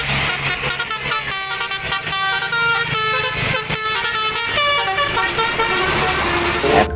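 A toy bus plays a melodic telolet horn tune, a loud run of bright repeated honking notes that continues steadily for several seconds.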